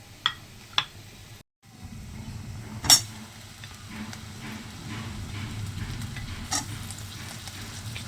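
Tomatoes go into a pan of cooking paste. After a brief hush the frying swells into a steady low sizzle, with a few sharp clinks of a utensil near the pan.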